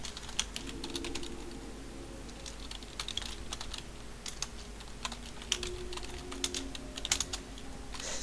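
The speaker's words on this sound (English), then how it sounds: "Sorry, I'm typing." Steady typing on a computer keyboard with irregular clicks and occasional louder key strikes over a low background hum, no talking.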